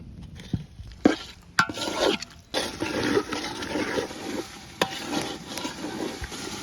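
Marinated beef frying in oil in a pot for tehari, stirred with steady scraping and sizzling, with sharp clacks of the spoon against the pot throughout.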